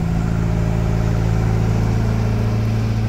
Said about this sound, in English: Revving at one and a half thousand revs.